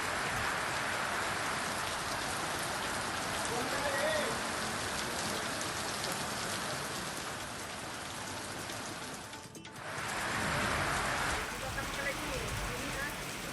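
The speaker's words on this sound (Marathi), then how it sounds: "पावसाच्या हलक्या सरी बरसत आहेत पुढचे चार दिवस पावसाचा जोर कायम राहणार आहे" Steady light rain falls continuously on surfaces in a monsoon setting, a dense even patter that briefly dips near the end before resuming at the same level.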